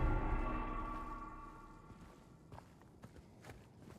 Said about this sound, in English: Really heavy footsteps.